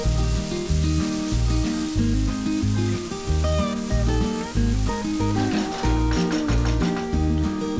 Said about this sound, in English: add 1 tomato chopped and fry it until the tomatoes are nice and soft